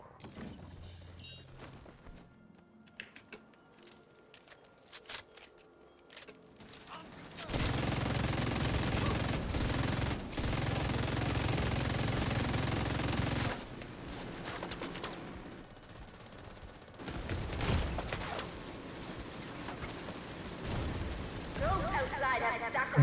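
Sustained video game gunfire, a dense automatic roar that runs for several seconds, breaks, then returns in shorter bursts, with a person talking over the quieter stretches.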